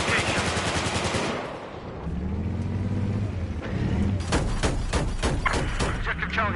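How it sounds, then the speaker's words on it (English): Enemy machine gun fire in the Battlefield video game, rapid bursts of automatic shots in the latter half over engine rumble and battle noise, with a voice speaking earlier. "There's an enemy machine gunner east of your location."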